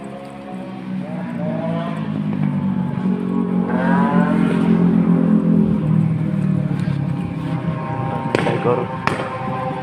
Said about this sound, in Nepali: कसरी हिँड्छन् यहाँ चाहिँ बाइकहरू